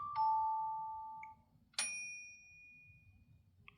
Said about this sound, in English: That's like a cash register bell.